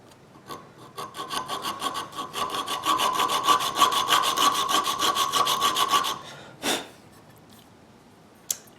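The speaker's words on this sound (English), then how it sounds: "we'll lay our file over flat and start filing on farther down this way" A file rasps back and forth across the spine of a steel knife blade, cutting a groove in even, rapid strokes that build in loudness, then stop, followed by a couple of brief scrapes.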